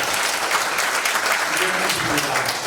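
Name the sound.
applause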